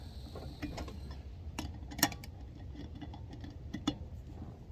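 A ratchet wrench clicks as it tightens lug nuts on a Range Rover Evoque wheel during a tire change, giving soft, close mechanical ticks with two sharper clacks standing out over low background rumble.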